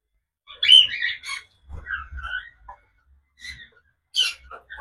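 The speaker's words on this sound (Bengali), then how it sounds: "এই যে এই পাখিগুলো" A flock of small pet birds gives scattered high chirps and tweets in short bursts separated by quiet gaps, close by and moderately loud.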